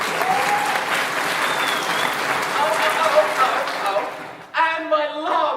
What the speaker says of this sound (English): Everyone, a round of applause for Samir